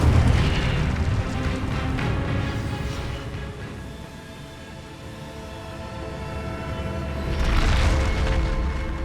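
Incendio fire spell blasts in Hogwarts Legacy, deep booming explosions with rumbling roar at the start and again near the end, a lower sustained rumble between, no voices.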